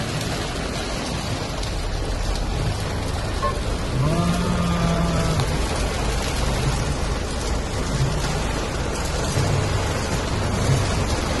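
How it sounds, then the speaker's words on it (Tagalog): Heavy afternoon rain pours down on a Quezon City avenue, a loud dense hiss of drops hitting surfaces with steady drumming, and a faint tonal whine drifts through the downpour. "Grabe ang lakas ng ulan."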